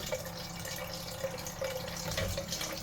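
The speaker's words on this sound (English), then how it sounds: "Push this button here, and out comes my water." Water runs steadily from a push-button dispenser into a watering can for houseplants, a continuous soft pouring trickle heard alone at moderate level.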